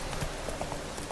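Steady clip-clop of horse hooves trotting at a moderate pace in rain in The Witcher 3: Wild Hunt, a continuous rhythmic patter over a dense, noisy background.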